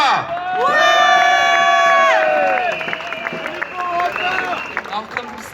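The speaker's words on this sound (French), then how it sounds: "Je vous prie d'applaudir Corentin Dejoie." A crowd at a protest rally in front of the Assemblée nationale in Paris cheers and shouts loudly, with sustained whoops that fade into scattered clapping and calls.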